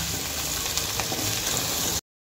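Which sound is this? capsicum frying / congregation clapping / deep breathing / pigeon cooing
capsicum frying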